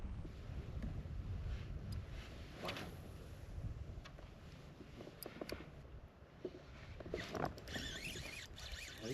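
Wind gusting over a winter river during kayak fishing, a steady broadband rush with microphone buffeting that swells and dips throughout, fairly faint, with no talk.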